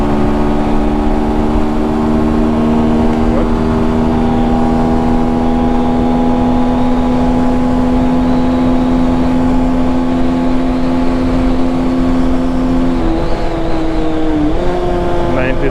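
Sonlink SL 150KD motorcycle at high road speed: a loud, steady engine drone with rushing wind, the pitch holding even and then dipping slightly near the end.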